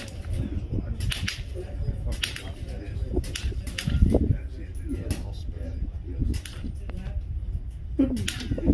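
Airguns firing in an outdoor speed shooting competition, sharp snapping shots spaced irregularly a few at a time, moderately near, under a low murmur of voices and ambient noise.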